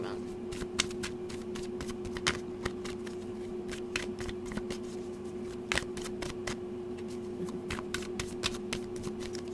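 Tarot cards are shuffled and drawn by hand, a quick series of crisp papery snaps and flicks, some in rapid bursts, close and fairly quiet over a steady low hum.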